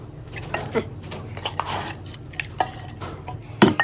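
Shrimp tossed and mixed into a spicy Thai salad in a bowl, with close clinks and scrapes of a spoon against the dish and soft wet squelches, irregular and brief, no talk.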